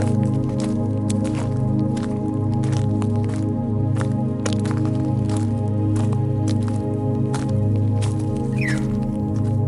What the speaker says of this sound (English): Footsteps on stone.